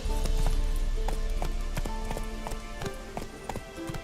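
Horse Roach gallops in The Witcher 3, hooves clip-clopping in a fast, steady repeating rhythm, close and clear over a low rumble, slowly easing slightly in loudness.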